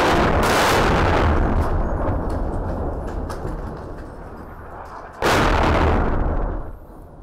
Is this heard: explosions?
yes